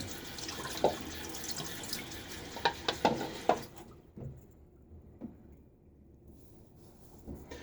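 Running faucet water rinses leftover shaving soap down a bathroom sink drain, a close splashing stream with a few clinks and splats before the flow stops and only faint drips and small knocks remain.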